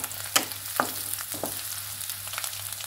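Finely chopped ginger sizzles and fries in a pan as it is stirred, a steady close crackle broken by a few scraping utensil strokes, with no talking.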